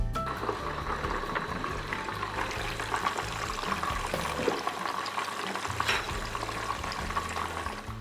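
Continuous sizzling and crackling of chicken frying in hot oil, steady and moderately quiet, with faint background hum.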